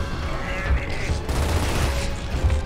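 Rapid bursts of gunfire with booming impacts in Gears of War: Ultimate, dense and continuous, loud and close throughout.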